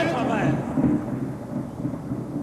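A thunderstorm gives off a deep, continuous rumble that swells and fades, with a soft wash of rain beneath it, steady and fairly loud throughout.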